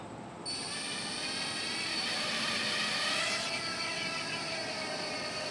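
A Galaxy Visitor 2 drone lifts off with a sudden, steady, high-pitched propeller whine that holds loud and close throughout, swelling slightly midway.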